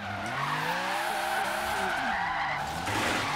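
Green front-wheel-drive Dodge Dart with 700 horsepower sliding around a roundabout in a racing video game, tires squealing steadily under a loud engine roar that pitches up and down through the drift.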